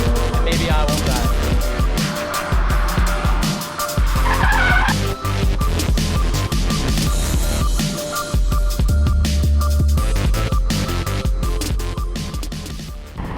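A turbocharged Exomotive Exocet race car laps Shenandoah Circuit at Summit Point, engine roaring and shifting up close with tires squealing through corners, loud and continuous from onboard.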